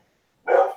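Dogs barking inside a house: a single short, sharp bark heard nearby after silence.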